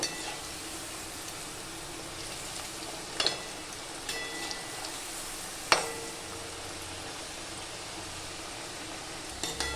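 Cornflour-coated food deep-fries until crispy in hot oil, giving a faint, steady sizzle with a few sharp utensil clicks and knocks, without talk.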